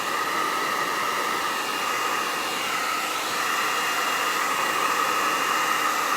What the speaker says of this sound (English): I know that the blow dryer is really bad